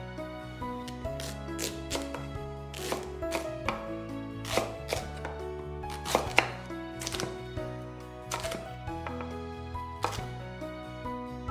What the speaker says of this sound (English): Then we cut the pumpkin into small cubes and, for now, put them in a bowl.